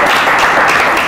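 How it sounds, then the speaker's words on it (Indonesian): A studio audience at a film-cast talk show breaks into loud, dense applause that fills the moment without any talk over it. "Nggak, tepuk tangan dulu"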